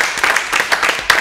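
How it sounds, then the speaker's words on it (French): An audience applauds a coach, a short burst of loud, dense clapping with slight surges in intensity. "On applaudit très fort pour le coach."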